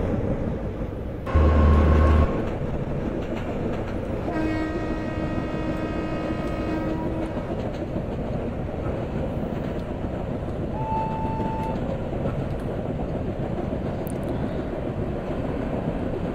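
Kamayani Express train running in a train simulator game: a steady, loud rumble of rolling wheels and engine continues throughout, with a brief horn-like tone near the start and faint tonal whines layered over the constant noise.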